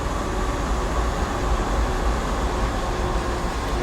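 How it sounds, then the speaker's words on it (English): A CSX heavy-haul freight train passes in Train Sim World, a steady, loud, broadband rumble of rolling wagons that holds evenly throughout with no voices. "I guess we got time for a quick train by."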